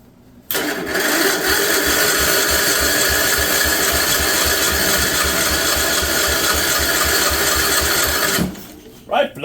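A 1958 Wisconsin AENLD small engine catches and runs steadily with a rapid, even mid-pitched putter for several seconds, loud and close, then stops abruptly; brief voices are heard at the edges.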